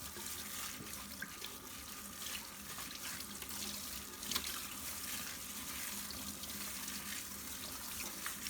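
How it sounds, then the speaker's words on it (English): Steady running tap water splashing into a sink as dishes are rinsed, a continuous broadband wash with small clinks and splashes, fairly close. "After a few wipes, rinse with water and see."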